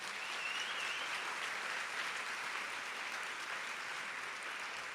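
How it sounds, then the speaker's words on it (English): An audience gives an honoree at a leadership award ceremony another round of applause, a sustained, moderately quiet and even wash of clapping from many people, with no voices over it. "can we just give her one more round of applause?"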